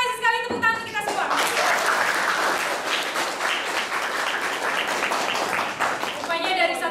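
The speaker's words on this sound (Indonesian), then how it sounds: "terima kasih sekali, tepuk tangan kita semua." Applause from a classroom full of people swells into a dense burst of clapping for about five seconds, framed by a voice speaking before and after it.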